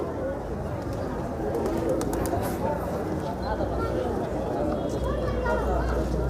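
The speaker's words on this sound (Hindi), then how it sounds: "कबूतर भी बहुत भोले है, बहुत प्यारे हैं" Pigeons coo softly amid a busy outdoor bustle at Patan Durbar Square in Nepal, with people talking nearby and a low rumble underneath.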